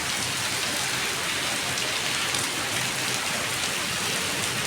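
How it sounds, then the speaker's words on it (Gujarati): Heavy rain pours down steadily, a loud, dense, unbroken wash of drops drumming on surfaces close by, with no voices. "બહુ જ વરસાદ ચાલુ થઈ ગયો છે"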